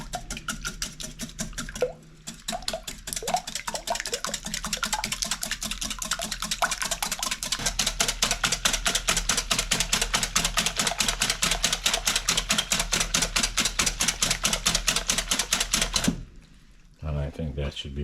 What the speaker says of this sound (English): We use the whisk again, and we'll just whisk this all together.